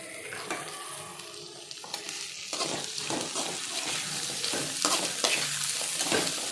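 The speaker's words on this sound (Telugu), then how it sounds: "ఉల్లిపాయ ముక్కలు పచ్చిమిరపకాయ ముక్కలు క్యారెట్ ముక్కలు ఏవైతే ఉన్నాయో బంగాళదుంప ముక్కలు ఇవన్నీ వేసుకొని ఫ్రై చేసుకోవాలి" Onion, green chili, carrot and potato pieces fry in a pan while being stirred, giving a continuous close sizzle broken by repeated scraping strokes of the spoon, with no voices.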